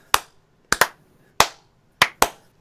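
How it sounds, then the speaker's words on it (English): Sharp, deliberate hand claps spaced out slowly, some in quick pairs, loud and close with no talking. "Slow clap"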